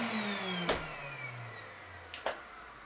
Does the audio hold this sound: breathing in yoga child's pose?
no